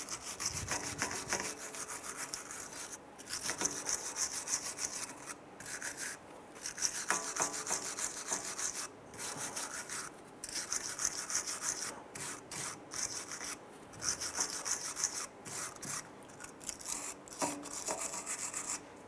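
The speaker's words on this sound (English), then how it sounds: "use your wire brush. We're going to clean the front side of our hub here" A wire brush scrubs scaly rust off the front face of a wheel hub on a 2005-2010 Chrysler 300 during a brake job, with close, steady raspy strokes in repeated bursts separated by brief pauses.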